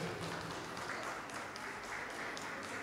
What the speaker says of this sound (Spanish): Aplaudimos a las participantes.